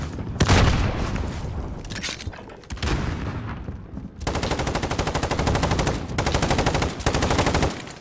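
Sustained rapid gunfire in Call of Duty: Warzone, with scattered shots early on followed by long rhythmic machine-gun bursts that are loud and close, and a heavy boom near the start.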